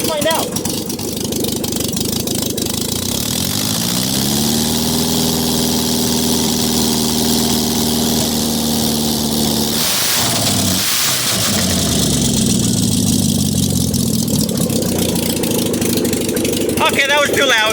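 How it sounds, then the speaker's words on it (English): Car engine running with no muffler after a stage 3 clutch job, a loud raw idle that climbs into a long sustained rev, dips briefly, then revs again before settling. "You ever wonder what it sounds like when you rev it up with no muffler?"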